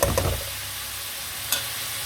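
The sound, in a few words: chicken frying and stirred in pan with spices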